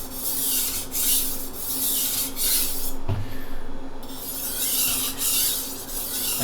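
A chef's knife with a broken tip is ground on a medium grit whetstone of about 2000 grit, giving steady, loud rasping strokes in a back-and-forth rhythm with a short pause midway, heard up close without talk.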